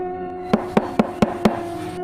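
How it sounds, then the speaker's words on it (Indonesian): Five evenly spaced knocks on a bedroom door, sharp and close, over a steady tonal background drone in an audio drama. "Kini pintu kamar mulai diketuk."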